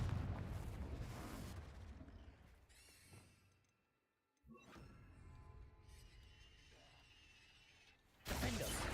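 Spell blasts in a wizard video game, loud booming bursts with rumbling debris at the start, a brief near-silent gap, then more crackling impacts and a sharp final blast.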